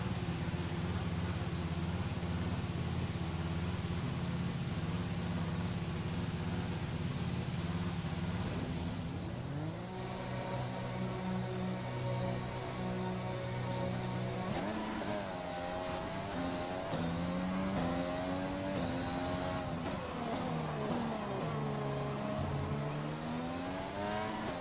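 A Formula 1 car in the F1 2020 video game drives out on track, its engine a continuous high-pitched whine that rises and falls through gear changes, loud and steady with no talk.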